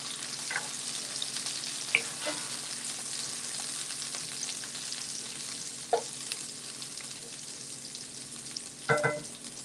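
Onions fry in a pan with a constant soft sizzle, and a few sharp stirring clicks and scrapes stand out, with the loudest cluster near the end. No voices are present.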